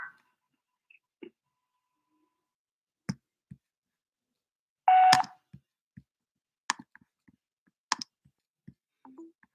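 A voicemail greeting tone on a phone call, one loud steady electronic beep standing out amid scattered quiet clicks and taps, with no talking.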